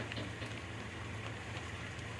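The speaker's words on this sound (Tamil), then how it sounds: "மழை அழகா காலையில் மழை பெய்யுது" Steady morning rain falling in West Bengal, a continuous even wash of hiss with faint scattered drops and a low hum underneath, no talking.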